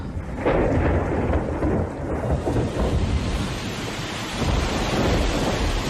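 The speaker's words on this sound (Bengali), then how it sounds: "সেদিন সন্ধ্যের পর থেকে মুষলধারে বৃষ্টি নামল। গাছপালার আর্তনাদ ও মেঘের গর্জনের সঙ্গে সঙ্গে" Heavy downpour and rolling thunder fill a radio drama scene of evening rain over hills and trees, a dense, loud roar of rain with deep rumbling swells, no voices.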